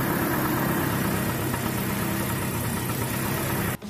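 The engine of a homemade small truck built by a young Assamese man runs steadily, a loud, continuous mid-pitched idling rumble with a slight knocking texture that cuts off abruptly at the end.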